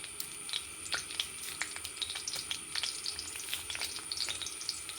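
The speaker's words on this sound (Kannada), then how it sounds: "ಒಂಚೂರು ಎಣ್ಣೆ ಹಾಕೊಂಬ, ಇದಕ್ಕೆ ಒಂಚೂರು ಸಾಸಿವೆ, ಒಂದು ಕಾಲು ಟೀ ಸ್ಪೂನ್ ಫಸ್ಟ್ ಜೀರಿಗೆ, ಒಣಮೆಣಸು ಕತ್ತರಿಸಿ ಹಾಕಂತ ಇದ್ದೆ." Mustard seeds, cumin and cut dried chilli sizzle in hot oil with a dense, crackling spatter and small popping bursts that continue evenly throughout, close and fairly loud.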